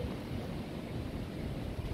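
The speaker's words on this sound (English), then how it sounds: "and the rain is starting" Steady broadband rain roar from an approaching thunderstorm in southern New Jersey, dense and continuous, with low rumbling underneath and wind picking up.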